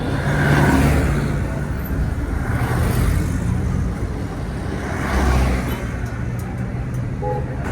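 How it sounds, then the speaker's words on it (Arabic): Jammed winter traffic crawls along the Alexandria Corniche, a continuous rumble of car engines with slow swells as vehicles edge forward and accelerate nearby. "حرفيا الكورنيش كله زحمة."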